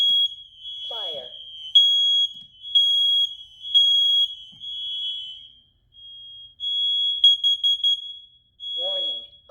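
A smoke and carbon monoxide alarm under test gives sharp, high-pitched piercing beeps in short bursts and patterns, with a person speaking briefly at the start and end.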